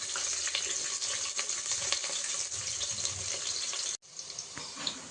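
Onions frying in a pan for Indian pudina mint rice, a close, steady crackling sizzle that breaks off briefly near the end, then resumes, with no talking.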